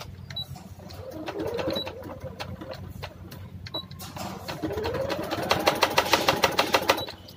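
A sewing machine stitches a sleeve onto a suit, running in short uneven bursts before settling into a faster, steady rhythmic clatter near the end, close and clear without speech.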